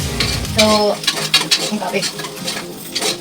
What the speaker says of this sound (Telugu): ఆనియన్స్ గోల్డెన్ బ్రౌన్ కలర్లో వచ్చినంత వరకు కలుపుకోవాలండి